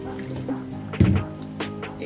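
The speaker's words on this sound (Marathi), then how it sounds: "आणि मी ह्याच्यामध्ये थोडं पाणी टाकून झाकून ठेवणार आहे" Water poured into a pan of chicken masala for butter chicken: a brief splash and sizzle that bursts up midway over steady kitchen background noise.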